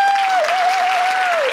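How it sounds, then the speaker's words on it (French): A brief burst of crowd applause in a children's story, dense steady clapping, with a sustained tonal voice or note gliding over it throughout. "le monde applaudit."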